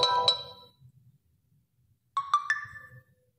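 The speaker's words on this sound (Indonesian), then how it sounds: "nada dering," A short electronic ringtone melody from an Infinix Zero 5G 2023 phone plays in two bright, chiming bursts separated by a pause of near silence, close and clear.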